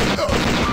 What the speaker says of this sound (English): Get in the machine gun!